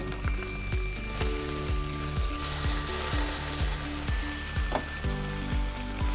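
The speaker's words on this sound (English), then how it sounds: "So when we have like 3/4 of the fish already cooked, we're going to flip it" Cod fillet with crispy skin frying in a Berndes non-stick pan after being flipped, giving a steady, close, loud sizzle with a dense broadband hiss and low tonal music running underneath throughout.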